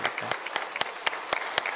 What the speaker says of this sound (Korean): 우리 환영 박수를 치도록 하겠습니다